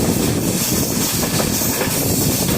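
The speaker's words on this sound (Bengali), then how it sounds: "আসাম, মিজোরাম, এই রুটে সব স্টেশনকে কানেক্ট করছে ট্রেনটি" A train passes close by, a loud, continuous rumble and hiss of carriages rolling along the tracks.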